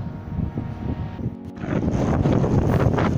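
Steady winter wind roars into the microphone on a sea shore, rising in strength partway through into a loud, continuous buffeting rush.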